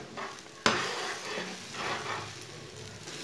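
Egg curry masala is stirred in a sizzling pan, with a spoon scraping and clinking against the metal once at the start, then a continuous soft stir over steady frying hiss.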